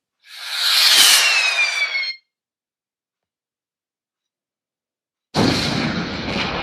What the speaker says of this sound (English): The force of the explosion sent Mushu and Cricky flying through the air.